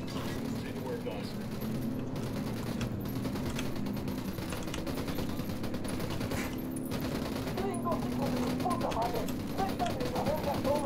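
Dense, continuous gunfire from a firefight in Ghost Recon: Wildlands, rapid automatic bursts layered into a steady barrage over about eleven seconds, with voices talking over the shooting.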